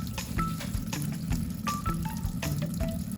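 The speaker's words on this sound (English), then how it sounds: "Wet the polishing surface with water." Water trickles and splashes onto the unglazed bottom of a ceramic cup being wetted for knife sharpening, with small drips and gurgles close by and steady running water throughout.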